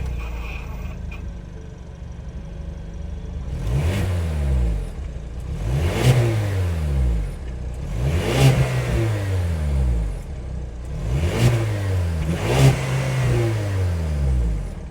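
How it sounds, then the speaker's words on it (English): A 2024 Ford Bronco Sport Badlands with its 2-liter EcoBoost turbocharged four-cylinder revs five times in sharp, evenly spaced bursts, each climbing and falling back to a steady idle, heard close and loud with no talking. "that was the sound of the 2-liter EcoBoost turbocharged 4-cylinder engine sold by Ford for the"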